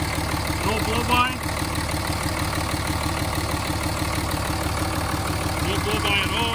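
A 2004 Dodge Ram 3500 with the 5.9 engine, aftermarket air filter and intake idles with a steady, low, even rumble under continuous talking.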